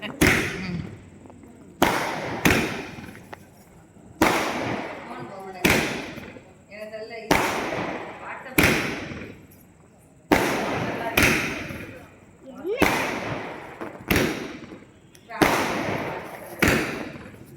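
Diwali firecrackers go off in a steady series of loud, sharp bangs roughly every second or two, each followed by a short decaying crackle.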